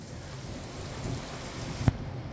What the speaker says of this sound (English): I record stuff like this every time there's a thunderstorm.